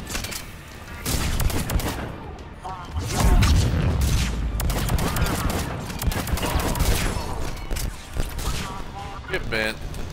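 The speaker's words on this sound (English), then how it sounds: "Take you all out with a pistol." Rapid volleys of pistol gunfire and explosive booms from the video game Mass Effect 3 Legendary Edition, loud and dense throughout, with someone talking over the combat.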